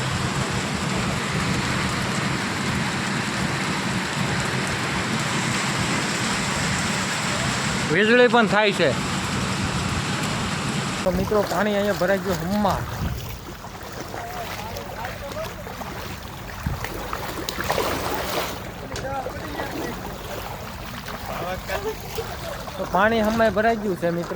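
Heavy rain driven by strong wind pours onto a flooded street in a loud, continuous wash of water noise, with people talking through it.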